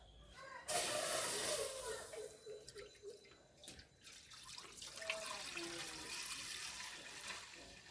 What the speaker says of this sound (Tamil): ஒரு லிட்டர் பாக்கெட் பழம் வந்து பார்த்தீங்கன்னா சட்டியில் சேர்த்திக்கலாம்